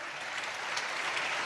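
A church congregation at an Easter service claps together in a continuous, dense patter of many hands, steady and moderately loud throughout the short stretch with no voices on top.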